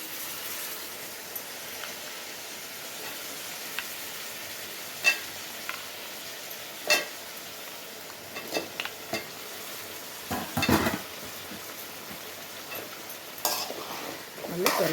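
Chicken and potato pieces sautéing in a pan for a curry, a soft continuous sizzle broken by scattered spatula scrapes and stirring knocks, close and fairly quiet, with no speech.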